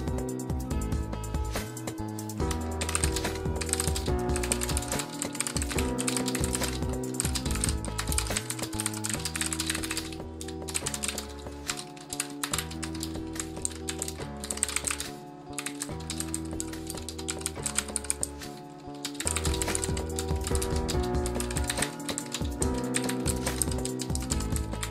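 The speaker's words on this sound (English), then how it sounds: "Here's what the keyboard sounds like." Steady, continuous typing on an A4tech Bloody B830 mechanical keyboard, dense clacking keystrokes heard up close with no voice, running almost without pause and dipping only briefly in a couple of spots.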